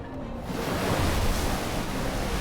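Broad, steady rush of moving water from the video game The Unfinished Swan, like surf or a large body of water, starting from near silence and holding loud and continuous with no talk.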